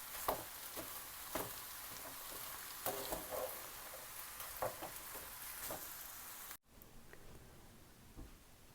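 Black chickpeas and mixed vegetables with spinach stir-fried in a pan give a steady close sizzle with scattered scraping and stirring ticks, briefly cutting out before resuming.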